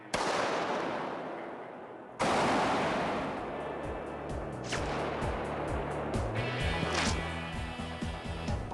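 A gun fires a bullet outdoors during a test of fired versus dropped bullets, a heavy close blast followed by a dense burst of rapid reports and rumbling, loud and with no talking.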